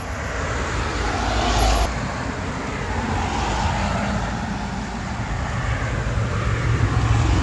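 A route 320 bus heading toward Biggin Hill pulls up amid steady roadside traffic, a loud, continuous engine and road roar close by, with no speech.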